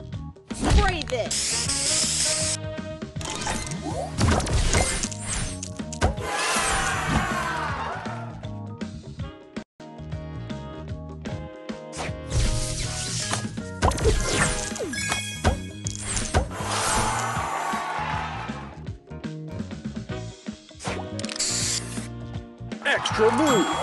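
Spray effects in a multiplayer party video game, several hissing spray bursts of a second or two separated by clicks, crashes and game music, with an announcer voice speaking between them.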